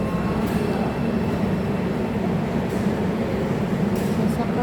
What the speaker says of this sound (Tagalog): Yan yung train dito.